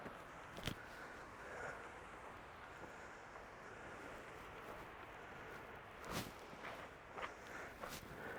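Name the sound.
footsteps walking on beach in biking boots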